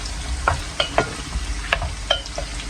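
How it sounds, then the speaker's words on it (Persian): Onions and potatoes fry in oil, making a crisp, close sizzle broken by irregular stirring scrapes and clicks. "تا پیازمون داره سرخ میشه سیب زمینی هم توی یه ظرف دیگه سرخش میکنیم"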